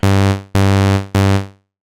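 Synthesizer plucks with a short filter envelope, three loud bright tones in an even rhythm, each swelling and decaying, then silence.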